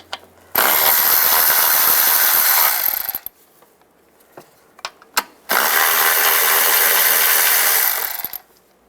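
Rapid ratcheting of a 10mm socket wrench loosening nuts under the hood of a 2007-18 Jeep Wrangler, two long loud buzzing runs separated by a pause with light clicks and clanks.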